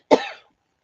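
A single short, close cough from a woman, sharp at the start and trailing off quickly into silence.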